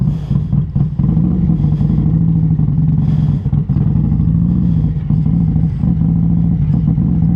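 A cammed and tuned 2025 Harley-Davidson Road Glide motorcycle accelerates with a loud, deep, throbbing V-twin rumble, heard close and continuous, with the pitch rising and dipping slightly as the throttle changes.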